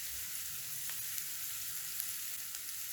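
Onions sauté in a pan, giving a soft, steady sizzle and crackle with a few faint stirring clicks, fairly quiet and continuous with no voices.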